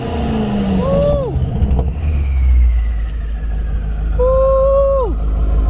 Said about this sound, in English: Here this titanium exhaust, gang. A Prokovich exhaust.